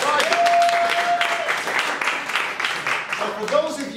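Applause from a staff audience at an assembly session, a steady wash of clapping filling the room at close range, with a voice and a brief tone heard over it before the clapping thins near the end.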